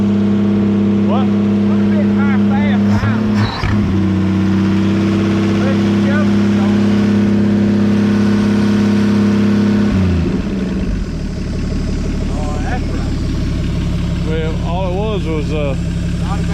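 A 1959 Edsel Ranger engine idles loudly and steadily nearby, then changes pitch and revs up and down in the second half, with voices talking over it at times.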